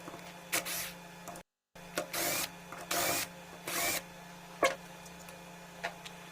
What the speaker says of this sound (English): these 3 screws. Let's open them.